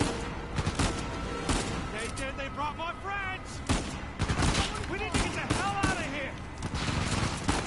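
Pistol gunfire in the Uncharted 4 video game, repeated sharp shots and bursts scattered across several seconds amid game effects, with a person talking over them.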